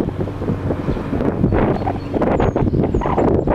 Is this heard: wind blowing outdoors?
yes